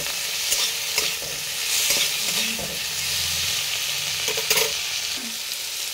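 Pointed gourd fries with tomato and shrimp in a pan, giving a steady close sizzle and hiss, with scraping stirs and light clinks from a spoon breaking through at intervals.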